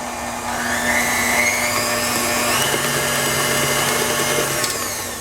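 Electric mixer whirring steadily through cake batter for a vanilla cake, a continuous loud motor hum with a steady tone, no talking.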